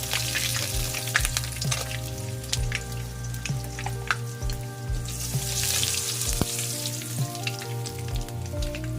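Milkfish (bangus) steak fries in a pan with a loud, steady sizzle and crackle, punctuated by occasional sharp clinks and scrapes of stirring, with no talking.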